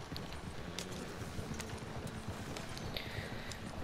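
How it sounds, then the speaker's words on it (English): A horse clip-clops at a steady trot in the video game Red Dead Online, even rhythmic hoofbeats that are fairly faint and carry on throughout, with no talking. "I got my horse somewhere behind me."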